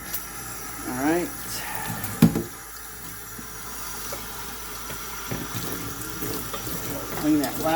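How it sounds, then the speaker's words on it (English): Water runs and splashes while rinsing out an EGR tube from a 2017 Ram EcoDiesel, a steady wash of flow with a sharp splash burst near the middle and a voice talking over it. "So now I'll rinse it with water."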